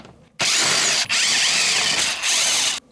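A power drill whines loudly as it backs out glove box screws on a Polaris RZR Pro XP side-by-side, in three close, sustained bursts separated by brief stops.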